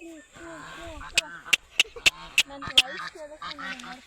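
Domestic ducks quack in a short burst of sharp, nasal calls close by, with a person calling to them.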